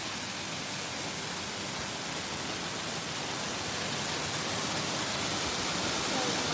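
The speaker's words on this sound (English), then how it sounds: "I love this waterfall." A waterfall at Epcot pours in a dense, steady roar of rushing water, close and constant throughout, with no clear voices above it.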